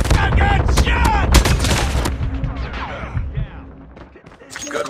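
Gunfire in the mobile video game Call of Duty Mobile: a rapid cluster of sharp, loud shots up front, then scattered bursts and game voices shouting over the firing.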